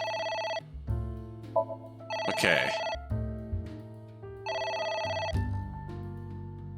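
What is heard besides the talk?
telephone ringing in the video game AI: The Somnium Files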